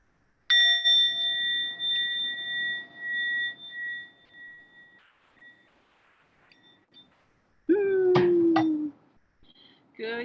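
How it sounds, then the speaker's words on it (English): A small hand bell rings once with a clear, sustained tone that fades over several seconds, followed by a brief cat-like meow and a faint second ding. "I'm gonna ring this little bell, and then we're gonna make some magic happen."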